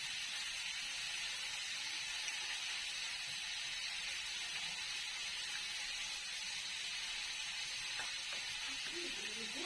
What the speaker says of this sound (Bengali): কাঁকড়াটা ভাজা হয়ে গেছে